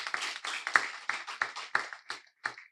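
A debate audience gives a short round of applause, sparse individual claps in an uneven rhythm that thin out over a few seconds.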